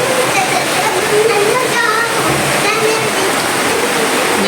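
Heavy rain pours down in a loud, steady, unbroken roaring hiss that fills the whole scene, with a voice talking over it.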